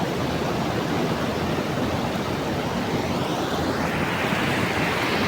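The Arun River rushes in a steady, loud broadband roar of flowing water, continuous and close, with no voices over it.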